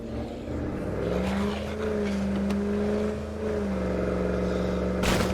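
Engine of a car driving in a zombie video game, a steady sustained drone with pitch rising and shifting as it moves, a sharp burst near the end, no talking.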